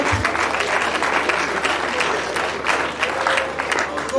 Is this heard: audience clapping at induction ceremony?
yes